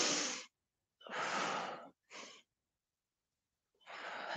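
Deep breaths are drawn in and pushed out close to the microphone during a stretching exercise. Four separate airy bursts of different lengths are broken by silent pauses.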